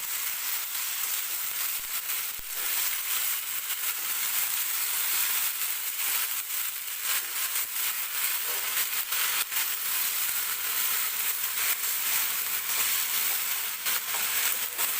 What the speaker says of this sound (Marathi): तेलामध्ये व्यवस्थित भाजी परतून घ्यायची आपल्याला